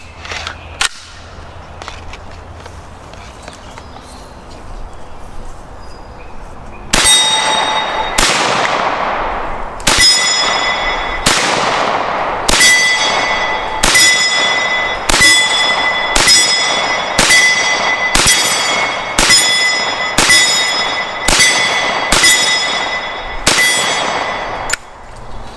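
Volunteer Arms Commando MK3 carbine fired outdoors, about fifteen loud sharp reports in a steady, evenly spaced string after a quiet stretch, each shot ringing with a metallic clang.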